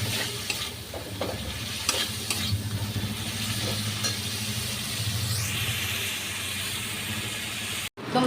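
Cumin powder sizzles and fries in a pan for a Bengali lotus stem and prawn curry, with a steady close crackle and occasional stirring scrapes, then a momentary cut before it resumes.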